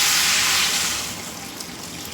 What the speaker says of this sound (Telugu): వాటర్ యాడ్ చేసుకుంటున్నాను